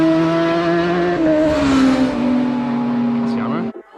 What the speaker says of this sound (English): I hear motorbikes.